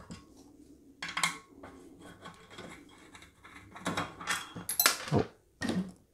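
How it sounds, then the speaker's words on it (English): A 4mm Allen wrench loosening rear wheel bolts on a Xiaomi M365 electric scooter: close metallic clicks, creaks and scraping knocks in irregular bursts, with no talk over them. "take the 4mm Allen wrench and then loosen these 2 bolts from each side"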